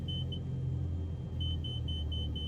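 A stall warning beeps in Microsoft Flight Simulator during a short-takeoff-and-landing approach, a steady run of short high beeps over a constant engine rumble.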